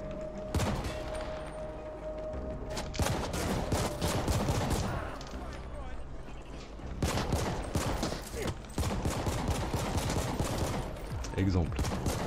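Gunfire in the video game The Ascent, repeated loud bursts of rapid shots and thuds separated by short pauses, with a voice talking underneath at times.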